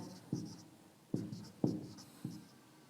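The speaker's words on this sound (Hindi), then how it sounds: "लिख देता हूँ।" A pen or chalk taps and strokes while a trigonometry formula is written out, giving four distinct, sharp strokes spaced unevenly with quiet gaps between, close and fairly faint.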